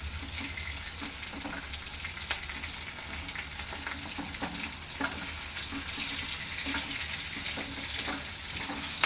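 Onions fry in a pan for a breakfast onion chutney, making a steady, close sizzle that runs throughout under scattered clicks of stirring, with no talk.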